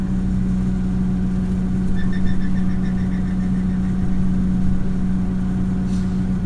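A forager or combine harvester with hydrostatic drive and hydraulics running: a loud, steady mechanical drone with a strong constant hum and faint rhythmic whining on top, continuous throughout with no talking.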